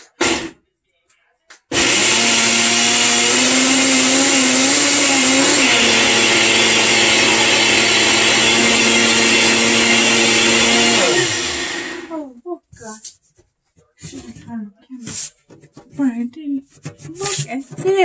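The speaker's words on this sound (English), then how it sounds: "Put on blender." A kitchen blender whirs loudly and steadily for about ten seconds blending raspberries into a drink, its pitch shifting partway, then winds down; people talk briefly before and after.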